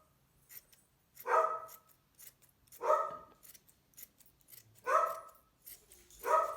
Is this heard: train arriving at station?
no